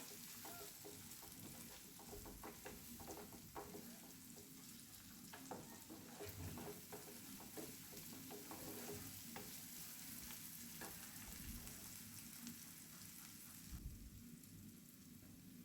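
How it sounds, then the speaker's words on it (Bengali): Spices such as Kashmiri chili powder and turmeric frying in oil in a pan for an egg curry, giving a steady, soft sizzle with faint stirring scrapes throughout. "আরও কিছুক্ষণ এটাকে ভেজে নেব।"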